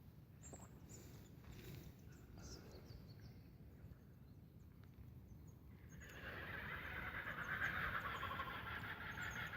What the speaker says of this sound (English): The laughing kookaburra.